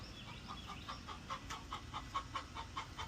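Hen clucking steadily while laying an egg, a regular run of about a dozen short, evenly spaced clucks, moderately near over a faint background hum.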